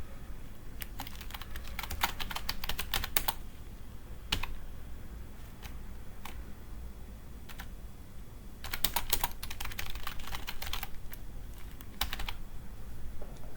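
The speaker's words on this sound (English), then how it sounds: "Just type random things here." Computer keyboard typing comes in quick clattering bursts separated by quiet pauses, close and fairly soft, with no talking.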